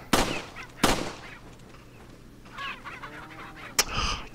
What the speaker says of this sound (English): Can't even hit a chicken.